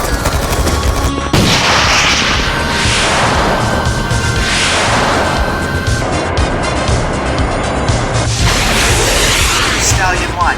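Battle gunfire and artillery in a naval and air assault from a game, with dense, continuous loud shooting and booms, whooshes overhead, and shouted commands over the din.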